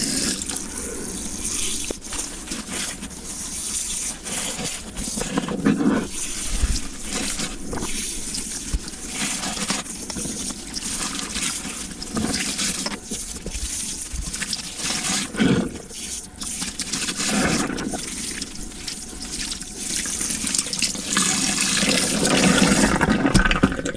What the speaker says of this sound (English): I think I'm just going to continue rinsing it in here.